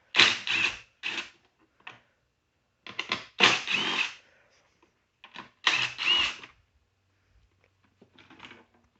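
Plastic flywheel cover being lifted off a Briggs and Stratton 725EX small engine after removing Torx 20 screws, heard as several short bursts of clattering, rattling and creaking handling noises close up, with pauses between them.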